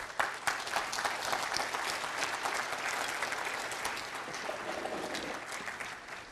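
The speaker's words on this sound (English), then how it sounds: "I want to ask you to give yourselves an applause" A conference audience at an ONPHA housing gathering applauds itself. The clapping is broad and steady, dense and somewhat distant, holding an even level throughout with a few sharper claps near the start.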